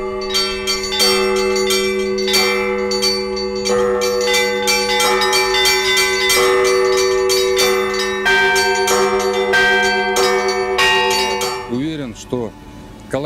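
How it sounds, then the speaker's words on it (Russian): New church bells for a church in Balashikha ring out together, loud and continuous, with layered sustained tones and repeated strikes over about twelve seconds before fading into a wavering tail. "Колокольный звон, благовес этого колокольного звона"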